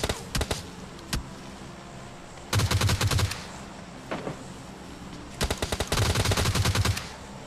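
Bursts of automatic gunfire from the mobile shooter PUBG Mobile Lite, with scattered single shots between two long, loud rapid-fire volleys, heard alone without talk.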